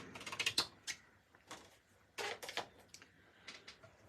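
A mini die-cutting machine works through paper for card making, giving faint mechanical clicks and creaking ratchet sounds in short irregular bursts.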